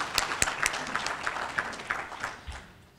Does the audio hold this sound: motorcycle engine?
no